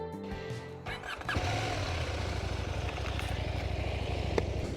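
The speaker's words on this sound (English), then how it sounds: "we are on top of the Husqvarna Vitpilen 801" A 2025 Husqvarna Vitpilen 801 motorcycle engine settles into a steady, moderately loud running drone after a brief start-up rise, heard close with no talking.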